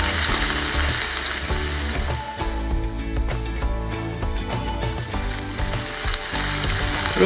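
Veal shank searing in a hot pan for osso buco, a loud and steady sizzle and crackle of frying meat that keeps going with no break and no talk.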